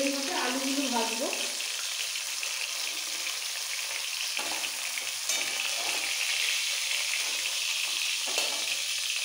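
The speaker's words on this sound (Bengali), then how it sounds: "নিয়ে এই তেলের মধ্যে আলুগুলো ভাজবো" Cut potatoes sizzling in hot oil in a home kitchen while cooking murighonto, a steady broadband fry hiss throughout with occasional stirring clinks and a brief tonal sound at the start.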